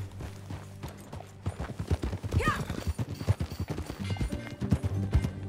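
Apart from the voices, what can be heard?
horse hooves clip-clopping while riding, from video game Red Dead Redemption 2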